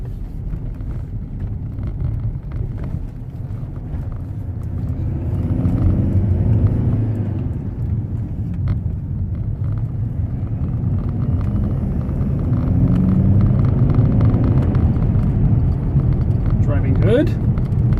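Mercedes E250 CDI diesel car accelerating on a road, a steady low engine rumble heard from inside that swells as it pulls harder.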